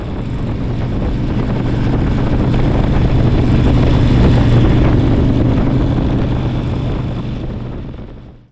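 A Honda Fury motorcycle with a slightly modified exhaust, ridden in winter, gives a steady, loud engine drone mixed with rushing wind. It holds constant for about seven seconds, then fades.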